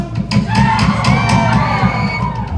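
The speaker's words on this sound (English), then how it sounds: "The louder you all scream and shout." A nightclub audience screams, whoops and cheers loudly and continuously, a dense wall of crowd noise with shouted voices rising through it.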